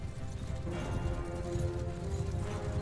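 Horse hooves clip-clop in a steady galloping rhythm in Mount & Blade: Bannerlord, close and continuous over a low rumble of battle noise.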